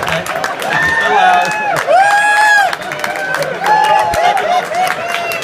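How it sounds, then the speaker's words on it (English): An audience at a Chaveirim annual Melave Malka dinner claps, cheers and whoops loudly and steadily, with raised voices and shouts mixed into the crowd noise throughout. "Give him a round of applause, everybody."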